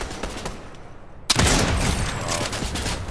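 Enemy gunfire erupts suddenly in a shooter video game: after a quieter stretch with scattered distant shots, a loud, dense burst of rapid automatic fire kicks in and keeps rattling steadily.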